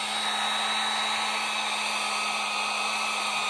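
A heat gun blows on a cello saddle to soften the glue beneath it, giving a constant airy whoosh with a steady high whine that holds unchanged and stays close, with no talk over it.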